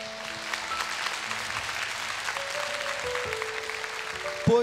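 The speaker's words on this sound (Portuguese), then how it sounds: "Pode aplaudir a Jesus." A church congregation at an evening worship and praise service applauds Jesus with steady clapping over a sustained organ or keyboard chord, ending with a brief louder swell.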